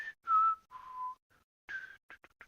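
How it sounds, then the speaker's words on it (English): A person whistles a short run of clear, high-pitched notes: a few sustained tones, a pause, then a longer note followed by several quick short chirps, close and alone with no talk. "Were you whistling?"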